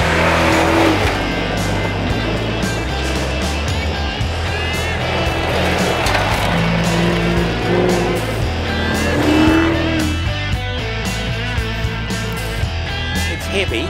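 A rally car engine roars steadily at speed, about 120, loud and close, with rising and falling revs and tire noise over rough ground during the 2016 Silver Fern Rally.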